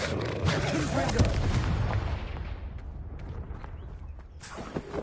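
Fiery Confringo spell blasts from Hogwarts Legacy boom in a dense, crackling burst for about two seconds, then tail off into a softer rumble with a faint hiss near the end.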